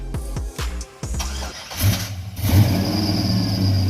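A Chevrolet Caprice Classic box Chevy LS engine cranks and catches, then revs up to a rough, rumbling idle with a raspy exhaust from an exhaust leak close by.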